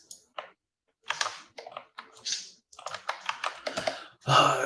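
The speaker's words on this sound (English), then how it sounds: "Typing is fun." Keys on a computer keyboard clatter in quick, uneven bursts of clicks separated by short pauses, close and fairly loud, with a louder flurry at the end.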